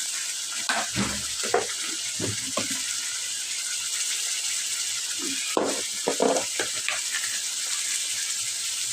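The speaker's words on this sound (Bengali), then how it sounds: "অল্প করে জল দিয়ে দিলাম ভালো করে চেপিয়ে নিচ্ছি" A pan of sarputi fish curry sizzles steadily after a little water is poured in, with intermittent stirring and pressing knocks over a constant hiss, close and moderately loud, no talking.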